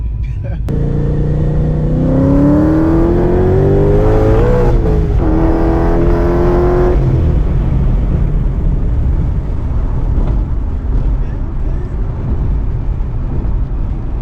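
A Procharger-supercharged Ford Mustang pulls hard, its engine roaring loud and close from inside the car, the pitch climbing through the gears before settling into a steady drone, with voices under the engine.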